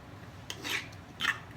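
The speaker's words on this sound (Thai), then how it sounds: "ก็ทุกมุมขูดมันออกทั้งหมด" Two short, close scraping rubs as fat is scraped from the inside of a large Dungeness crab shell, each a soft rasping stroke over a quiet background.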